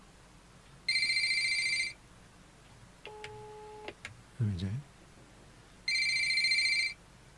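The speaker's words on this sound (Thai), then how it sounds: "มีโทรศัพท์เข้า" A telephone rings in two bursts of electronic trilling several seconds apart, with a short beeping tone and a brief mumbled word between them.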